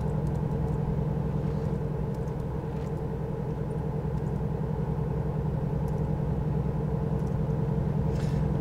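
A car cruises along a Kansas highway near Topeka, with a steady, droning engine and road rumble holding at an even level the whole time, and no talk over it.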